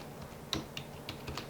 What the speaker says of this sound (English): So just type in that to a Google search